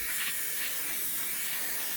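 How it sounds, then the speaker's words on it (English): An airbrush sprays Mr. Color paint onto a Heller Saab JA-37 Jaktviggen scale model aircraft, giving a steady, close, airy hiss that runs unbroken for the whole moment with no talking. "they spray really well"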